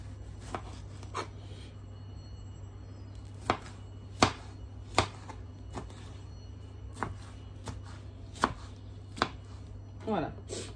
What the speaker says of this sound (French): je vais couper aussi mes tomates.